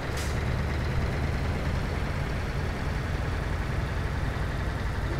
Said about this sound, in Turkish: Kamyon.